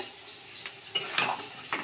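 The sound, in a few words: stirring and sautéing fried prawns with spice paste in a pan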